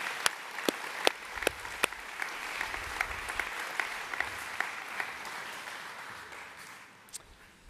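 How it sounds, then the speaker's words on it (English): An audience at an annual awards night applauds Year 11 subject award winners, a dense, steady clapping with a few sharp individual claps standing out, fading slightly at the end. "Can we please give all of our Year 11 Subject Award winners a round of applause?"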